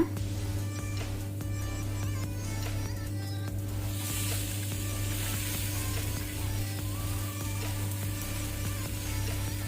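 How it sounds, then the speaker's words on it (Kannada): Cut boiled eggs dropped into a garlic masala frying in the pan, a soft, continuous sizzle with a brighter burst of hissing partway through, under a steady low hum. "ಈಗ ನಾವು ಕಟ್ ಮಾಡಿದ ಮೊಟ್ಟೆ ಹಾಕೋಣ"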